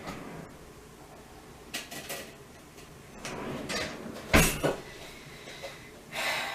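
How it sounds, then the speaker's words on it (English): A spoon is fetched in a home kitchen while baking chocolate chip cookies: a drawer rattles and metal cutlery clinks in a few short, sharp bursts over a quiet room background, with no talking. "I'm going to get myself a spoon."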